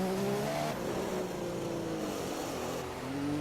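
A McLaren Formula 1 car engine in the F1 2015 racing game at Spa, a steady high-pitched whine with shifting revs and a few rising and falling tones, held fairly loud throughout with no talking.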